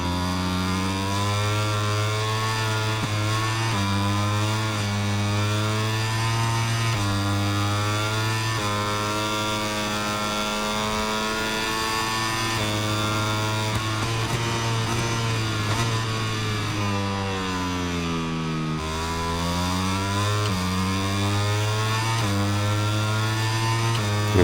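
A damaged MotoGP 25 racing motorcycle engine drones loudly and continuously, its pitch rising through the gears, dropping on shifts and braking, then climbing again, with no talk.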